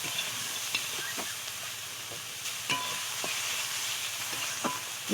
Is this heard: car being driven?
no